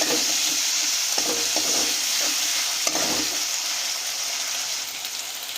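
Ginger garlic paste with black cumin and cumin seeds fries in a pan for a spicy rohu fish curry, a constant close hiss with a few soft stirring scrapes.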